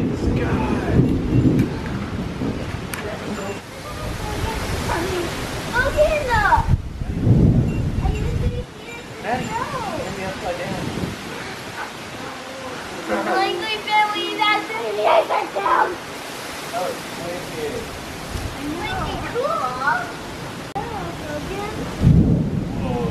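Heavy rain hisses steadily while deep rumbles of thunder roll through a lightning storm, with people talking and children's voices over the storm.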